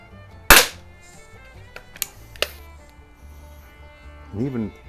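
A Webley Nemesis single-stroke pneumatic .177 target pistol fires with one sharp, loud crack and is followed by a few lighter mechanical clicks, then a short burst of talk.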